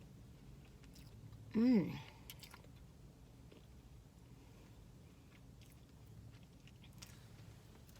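Someone bites into a Starbucks holiday treat and chews it with soft, faint mouth sounds. A short hummed voice comes early, then quiet chewing continues up close.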